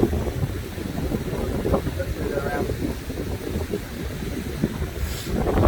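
Strong wind buffets the microphone in the New Zealand winter bush during a hunt, a steady loud roar with gusts swelling and easing throughout.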